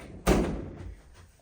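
A cheap brown interior Home Depot door gives a single dull thud, close and fairly loud, that fades quickly into quiet room tone.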